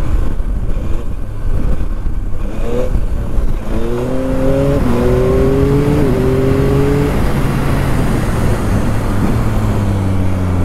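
A 2022 Yamaha MT-09 motorcycle engine revs loudly, its pitch climbing in repeated surges and then settling into a steady, close idle drone.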